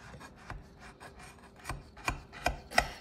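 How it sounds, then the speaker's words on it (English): Knife cutting through no-bake dessert bars: a series of crisp rasping strokes, about eight, growing louder toward the end, close up with no talking. "So we can cut this. It just slices"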